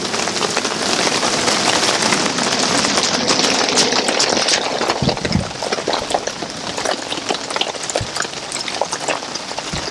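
Rain falling steadily, a dense continuous hiss with scattered sharper drops and a few louder pops, close by with no talk.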